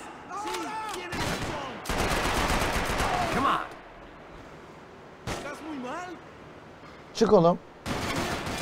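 Enemy gunfire in Max Payne 3, bursts of rapid shots in several volleys with pauses between, someone speaking and shouting between and over the firing.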